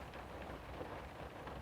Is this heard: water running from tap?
no